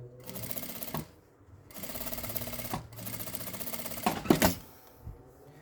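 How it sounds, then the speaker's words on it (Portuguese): A sewing machine stitches two pieces of printed fabric placed face to face for a small coin purse, running in three close, steady bursts of rapid mechanical whirring with brief pauses, then a few sharp clicks and rattles. "coloco estampa de frente com estampa, costurinha com o pé de máquina"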